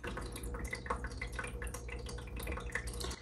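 Water trickling and dripping inside a Back to the Roots aquaponics fish tank, driven by the pump within, a continuous light splashing patter at close range over a low steady hum.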